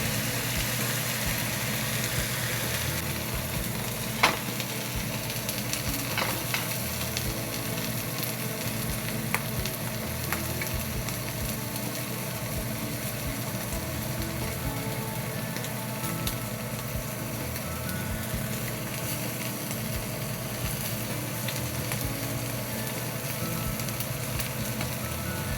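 A T-bone steak searing in a pan on high heat gives a steady, dense sizzle and crackle throughout, with a faint low hum underneath and an occasional sharper pop, close and without talking.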